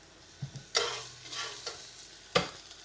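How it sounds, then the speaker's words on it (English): Aromatics hit hot oil while chilli beef is being made, giving a few sharp bursts of sizzle with soft crackling between them, close and fairly quiet. "I'm going to fry them for about 20 seconds to flavour that oil"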